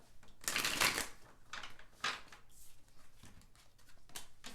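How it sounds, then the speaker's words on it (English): Tarot cards are shuffled in several quick riffling bursts, crisp and close, with brief pauses between them. "let's do a little shuffling"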